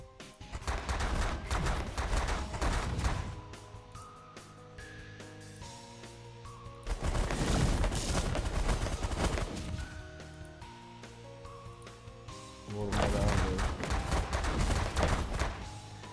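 Loud bursts of weapons fire and heavy impacts strike an enemy ship in the space strategy game Last Federation, coming in three dense waves separated by quieter stretches of game music.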